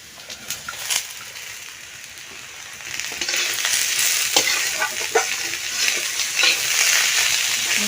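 Chopped potato goes into a pan of lightly fried onion and garlic, and the sizzle swells louder and stays dense, with a few quick scraping knocks from stirring.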